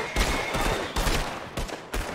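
Gunfire in Red Dead Redemption 2 sounds as several loud, sharp shots with a close, booming quality. They land in an uneven rhythm roughly every half second to second, with a rattling echo trailing each blast and no talking.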